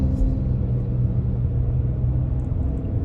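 A 2023 Kia Telluride X-Line AWD accelerating under throttle, heard from inside as a steady, loud low engine rumble with road noise, no voices.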